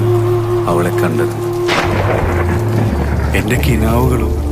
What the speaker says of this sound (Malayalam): ഈ മഴയിലായിരുന്നു